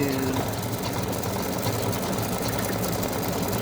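An embroidery machine stitches a satin-stitch fill on free-standing lace heart earrings, a steady rapid mechanical whirring hum running continuously at moderate volume throughout.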